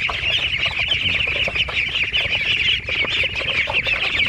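One-month-old Peking ducks crowd a pen, producing a dense, continuous chorus of close, loud nasal calls and chattering with scuffling underneath.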